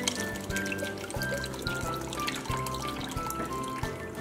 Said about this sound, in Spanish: Vamos a poner la leche evaporada.